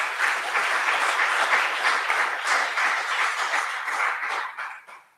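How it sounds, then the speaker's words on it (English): Audience applause at a political forum, a sustained wash of many hands clapping at moderate level, holding steady before thinning and fading out at the end. "And now we can give them a round of applause."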